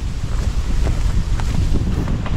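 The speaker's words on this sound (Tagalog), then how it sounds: "Malakas na naman yung hangin" Strong wind buffets the microphone in a continuous, loud rumbling roar with gusty fluctuations and no voices.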